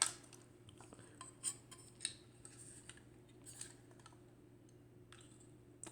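Faint metallic clicks and snaps as the back of a Royer Royflex III twin-lens camera is opened and shut, a few sharp, close taps spaced over a quiet hum.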